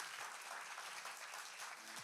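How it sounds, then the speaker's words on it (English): Steady audience applause fills the hall at a hackathon final pitching event, a dense continuous wash of many hands clapping at moderate distance with no gaps. "One more round of applause for what's next."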